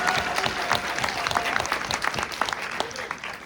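Dense, lively applause from a debate-final audience in Lille, many hands clapping together in a loud continuous burst for a competing team.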